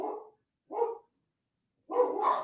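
Dogs bark at home in three loud, close bursts separated by short silences, the last one longer and rougher, with no talk over them.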